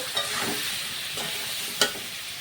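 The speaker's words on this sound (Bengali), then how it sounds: "ভালো করে কষিয়ে নিতে হবে 3-4 মিনিট মতো।" Spices with salt and turmeric sauté in hot oil for a hilsa fish curry with green banana, a steady close sizzle broken by a few sharp scraping stirs of a spatula, with no voices.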